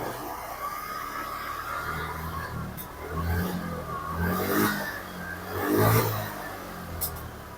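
A Honda Vario scooter's engine, fitted with an original AHM regulator rectifier, is throttled up from idle in a few rising swells of revving and whirring before easing back.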